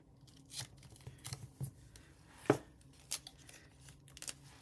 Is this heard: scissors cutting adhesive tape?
yes